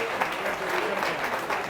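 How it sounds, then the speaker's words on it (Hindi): Brief burst of audience clapping at a senior citizens' gathering, a steady wash of applause lasting under two seconds. "बहुत सारी तालियां"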